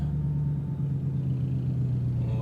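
An Audi R8 V8 idling steadily just after start-up, a close, even low rumble with a deep humming tone and no revving.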